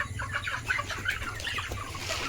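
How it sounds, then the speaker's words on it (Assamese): Many broiler chickens cluck inside a poultry farm shed, a dense, continuous chorus of overlapping clucks and chirps over a low steady hum. "আগতে মুৰ্গীখিনি চাই আহোঁ ভিতৰৰ পৰা কেনেকুৱা ধৰণৰ হ'ল"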